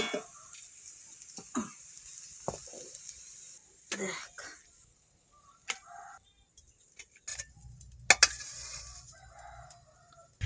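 A chicken crows nearby in a home setting, a few short bursts standing out over faint background bustle.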